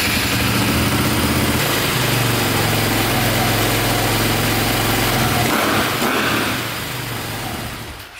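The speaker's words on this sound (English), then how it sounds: "the bike has been starting and running and idling perfectly" A KTM 450 dirt bike engine idles with a loud, steady, close rumble, then the sound drops and fades toward the end.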